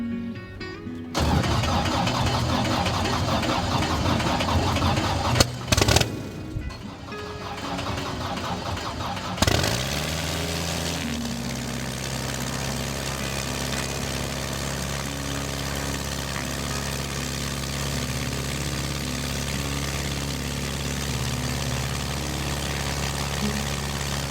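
A Xenos light aircraft's engine cranks and catches after several seconds of starter noise, then settles into a steady, loud, droning idle that runs on unbroken for the rest of the clip.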